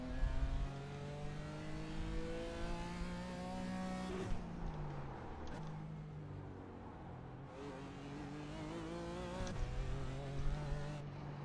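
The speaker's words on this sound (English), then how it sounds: "So you just don't listen to the pitch of the engine." A BMW M4 GT4 race car in the iRacing sim on the Chicago Street Circuit, its engine droning and revving up through the gears, dropping sharply on shifts and braking, then climbing again, loud and with no talk over it.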